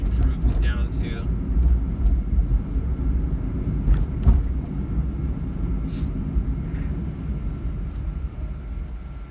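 A hybrid car fitted with a LiBCM lithium battery upgrade pulls away in second gear on a test drive, its low engine and road rumble steady and close, with brief clicks and light cabin noises on top.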